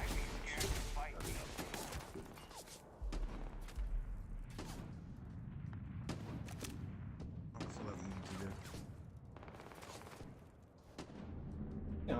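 Dense, rapid gunfire from the video game Starfield, with continuous overlapping shots and booming bursts filling the whole stretch, loud and close.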